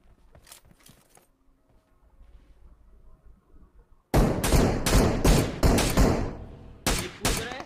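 SLR rifle fire in a battle royale game on a military bridge map: faint distant shots at first, then a loud close volley of sharp, rapid reports that keeps going to the end.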